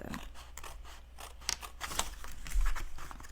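Scissors snip through the paper of a handmade gift bag in a quick run of short, crisp cuts, quiet and close, with no talking.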